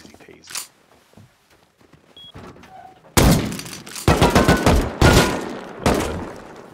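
A nail gun firing in the survival game Rust: after quiet shuffling and a voice, a burst of loud, sharp repeated shots with hard impacts breaks out and continues in clustered volleys.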